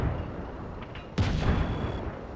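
Gunfire from an enemy boat in the war game Just Cause 3: a rumbling battle bed with a sharp, loud blast cracking out near the middle, then a sustained tone and a ringing tail.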